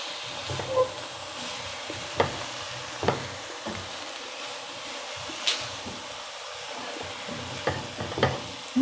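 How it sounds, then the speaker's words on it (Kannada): Shredded cabbage frying in a pan for palya, a soft sizzle broken by repeated scraping strokes of a spatula every second or so, close up with no speech. "ಚೆನ್ನಾಗಿ ಫ್ರೈ ಮಾಡ್ಕೋಬೇಕು"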